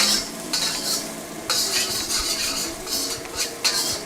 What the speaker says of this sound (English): In order for them to cook down properly, we have to be constantly agitating, otherwise they're going to burn.